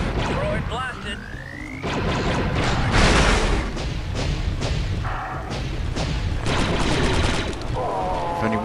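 Blaster fire and blasts against battle droids on a bridge in Star Wars Republic Commando, a dense, loud barrage of repeated shots and thuds with a rising whine, while squad voices talk over the fighting.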